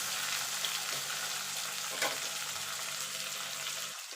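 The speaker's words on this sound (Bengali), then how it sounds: "আলুটা একটু ভাজা ভাজা করে নেবো পেঁয়াজের সঙ্গে।" Potato pieces frying with onions in a pan give a steady, close, even sizzle with faint stirring. The sound runs alone and unbroken, with no voices.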